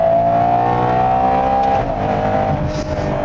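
A Ferrari Purosangue SUV's V12 engine revs hard toward 8,000 RPM, a loud, steady, harmonic-rich wail with a smooth gear change that dips and resumes the pitch.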